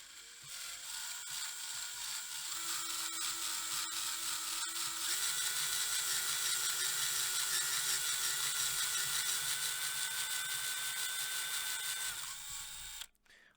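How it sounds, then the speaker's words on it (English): Power drill boring straight down into a clamped wooden board at a desk, a steady whining motor hum with a brief pitch shift partway, running continuously before stopping abruptly. "we're just going to drill on it"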